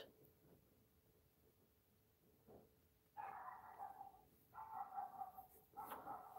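A dog heard faintly in the distance indoors, quiet at first and then giving drawn-out, whine-like calls in repeated bursts.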